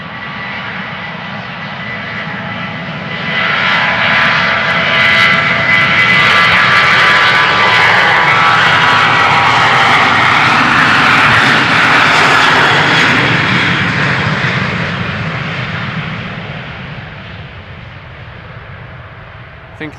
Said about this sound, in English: might also be the airplane that is taxiing towards us, but I think it is a narrow body